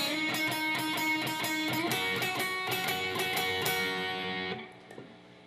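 Electric guitar plays the first part of the song's intro at full speed, a brisk stream of slightly distorted picked notes with steady rhythm, closing on a sustained note that drops away, followed by faint handling noise.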